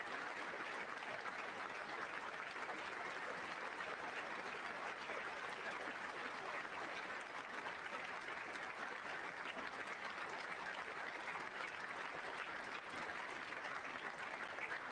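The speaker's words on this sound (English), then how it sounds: "They're up and clapping." Steady, far-off applause from a State of the Union address, a continuous faint wash of clapping that holds unchanged for the whole stretch, as if coming through a live broadcast.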